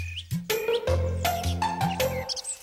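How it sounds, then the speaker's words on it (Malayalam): Birds chirp nearby in a quick series of bright, separate calls and tweets, loud and clear with little else behind them. "ഇതെന്താ കിളി ഇത്?"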